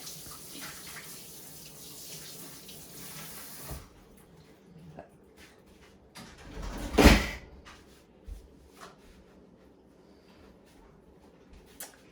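Tap water runs into a kitchen sink as a child rinses soap off their hands. The flow stops after a few seconds, leaving a quiet room with a single louder knock or thud.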